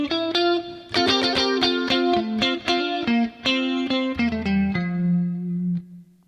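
Clean electric guitar playing a rhythmic pattern of chords and single notes, with a shimmering chorus and light reverb tail, loud and alone.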